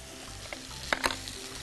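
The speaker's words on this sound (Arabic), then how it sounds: "اقلب البصل بتاعي، وهحط عليه اللحمه" Chopped onion and minced meat fry in a pan with a low steady sizzle, broken by a few sharp scrapes and clatters of stirring in the middle, no talking.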